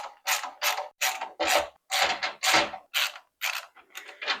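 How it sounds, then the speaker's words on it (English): Screws being backed out of a PC case: a series of about ten short, close ratcheting rasps of a screwdriver turning, each burst separated by brief pauses, with no talking. "So I gotta take all these screws out."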